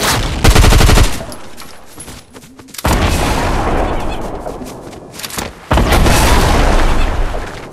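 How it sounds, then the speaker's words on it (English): Gunfire in the video game Fortnite, with loud bursts of rapid shots and booming blasts separated by brief lulls, close and dominant. "Oh, they sniping too."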